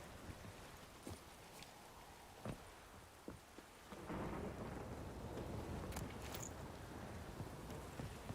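Rain and thunder in Witcher 3 Wild Hunt: steady rainfall with a few sharp cracks early on, then a heavier rumbling thunder roll swelling and lingering to the end.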